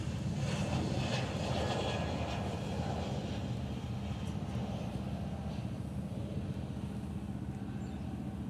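A Boeing 717 airliner at Honolulu airport gives off a continuous broad jet engine roar, moderately distant and steady, with no voices over it.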